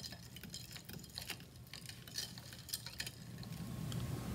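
Steady clinking and scraping of stirring in an ocean water sample during a freezing point lab, continuous and fairly faint with small irregular taps throughout.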